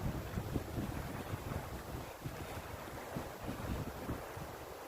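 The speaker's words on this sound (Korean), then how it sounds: "바람 불어서 파도 소리 있고." Steady wind buffeting the microphone with ocean waves washing ashore beneath it, a continuous dense roar with no pauses.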